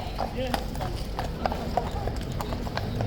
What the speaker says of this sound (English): It is 2 more horses.